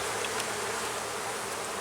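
Honeybees buzzing during an inspection of a crowded hive, a dense continuous drone, close and steady, with no voices.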